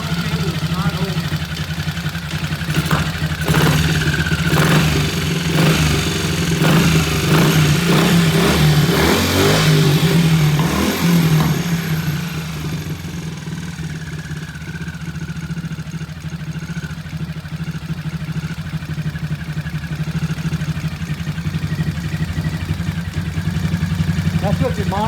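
A motorcycle engine fitted with a monoblock carburetor revs in several sharp bursts, then settles into a fast, steady idle; the engine stays close and loud throughout, with someone talking over it.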